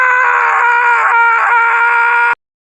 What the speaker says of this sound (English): Scream into the endless void like that one scene from Twin Peaks